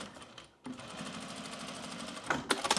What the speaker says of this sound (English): So we're gonna just blind sew this.